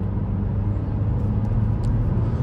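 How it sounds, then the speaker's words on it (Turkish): A 2021 Renault Captur speeding up hard, a steady low engine and road rumble heard from inside the cabin, loud and constant and without talk. "Bir gazlayıp orada fren yapalım arkadaşlar."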